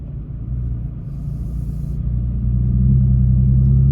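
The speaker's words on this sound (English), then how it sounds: "Okay, we're going to take off driving." Toyota Tacoma pickup truck pulling away and driving at low speed, a steady low engine rumble that swells gradually as it gets going, with no talking.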